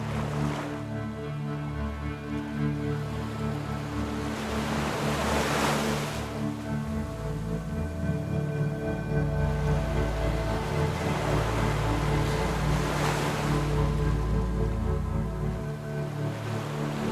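Steady roar of surf breaking on Nags Head Beach in the Outer Banks, with strong wind buffeting the microphone; two louder wave crashes swell up around the middle and near the end, no voices.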